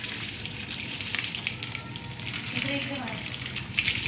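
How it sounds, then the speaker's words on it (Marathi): Tap water runs through a hose as a broad, steady rushing hiss during a cleaning wash, close and continuous, with a person talking over it. "तर बघा इथं मी आता नळ चालू केलंय."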